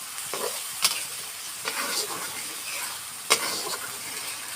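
Spiced prawns being stirred and fried for a biryani, with a soft continuous sizzle and a few sharp scraping knocks of a utensil against the pan; a brief word is spoken at the start.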